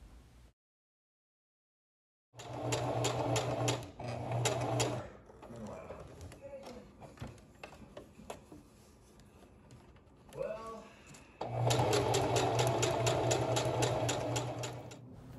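A sewing machine stitches the straps of a shirred dress with a tiered skirt. It runs in two short bursts, pauses for quiet handling clicks and rustles, then runs for a longer stretch, loud and close.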